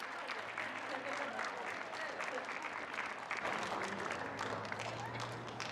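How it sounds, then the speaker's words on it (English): Sustained audience applause for a choir at an outdoor rally, steady dense clapping throughout with scattered crowd noise and voices mixed in. "One more round of applause for the choir."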